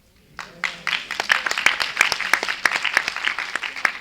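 A church congregation applauds a youth performance at a Sunday service, with dense, steady clapping that swells quickly and carries on for several seconds in a reverberant hall.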